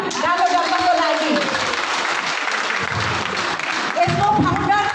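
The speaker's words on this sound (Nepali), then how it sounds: "त्यसमा एक बार जोड ताली गानो डर्माको लागि।" An audience at a DXN Nepal success-story event applauds steadily, a dense wash of clapping that holds for several seconds while a voice speaks over it.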